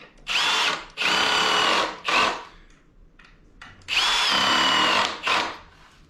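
Power drill driving screws through sawhorse legs into a wooden board: several whining bursts of rising and falling pitch separated by short pauses, close and clear, with no talking.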